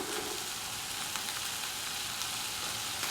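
Tofu frying in a pan of tomato masala, a steady close sizzle with faint stirring scrapes, continuous and even with no speech.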